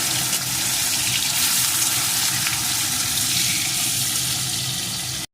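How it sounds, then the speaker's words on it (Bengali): Salt-and-turmeric-coated prawns fry in hot oil in a pan, making a loud, steady, dense sizzle that runs unbroken throughout. "এখন এই চিংড়ি মাছগুলোকেও একটু ভেজে নেব"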